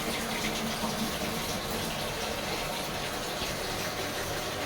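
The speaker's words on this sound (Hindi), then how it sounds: "अभी पानी तो उसमें गिर रहा है, आवाज़ आप सुन रहे होंगे" Water pouring into a Sharp ESX958 automatic washing machine, a steady loud gushing spray like a running tap, continuous and unbroken throughout with no talking.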